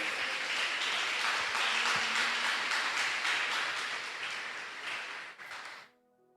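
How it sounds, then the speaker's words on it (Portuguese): A church congregation applauds during a Portuguese-language sermon, with dense, steady clapping that fills the space for about six seconds before cutting off abruptly. "Aplaude Jesus, aleluias."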